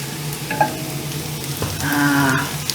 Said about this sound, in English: So let them pan fry for another, you know, 4 to 5 minutes.